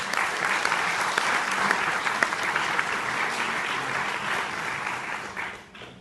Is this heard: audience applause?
yes